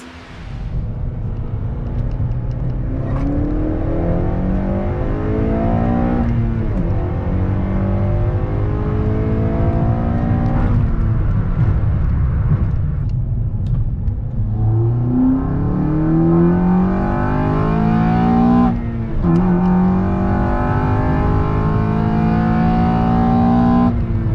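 A 9th-generation Honda Civic Si engine with a KTuned 3-inch intake revs repeatedly, rising and falling in pitch with a deep, throaty rumble and induction roar, loud and close throughout.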